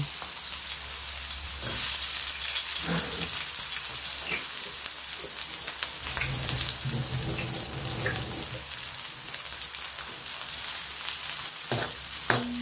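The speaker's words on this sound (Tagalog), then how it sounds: "haluin na ano muna natin yung sibuyas at bawang hanggang sa mag-brownish na siya at mag-translucent" Onion and garlic sizzle steadily in hot oil in a pan, with occasional stirring clinks and scrapes throughout.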